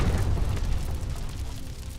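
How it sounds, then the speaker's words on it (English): A deep, heavy boom from a massive explosion at a castle in an audio drama, rumbling on without a break, loud and low, echoing. "a massive explosion shakes the whole castle and blows a wide hole in the exterior"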